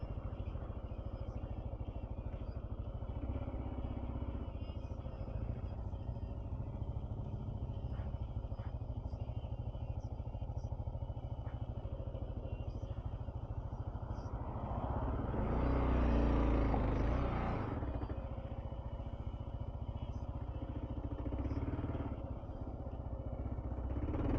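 A motorcycle cruising up a mountain road on Harquahala Mountain, a steady low engine drone with wind rumble throughout and a louder buffeting swell partway through.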